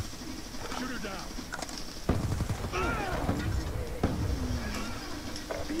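Gunfire in the video game Black Ops 2 during a Domination match, with repeated shots and bursts at moderate level mixed with game announcer voice lines and player chatter.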